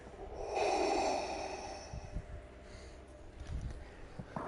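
Heavy breathing through a mask: one long, loud, rasping inhale-exhale close up, followed by quieter, shorter breaths and snuffles.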